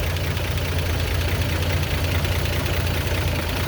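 A 1933 Chevrolet pickup's six-cylinder engine idling steadily, a smooth low rumble with even, continuous pulsing up close and no pauses.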